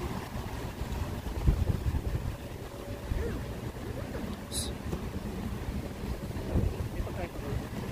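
Wind gusts and rumbles across the microphone throughout an outdoor picnic at the Museum of Islamic Art park in Doha, Qatar, with steady low buffeting and a brief sharp click midway.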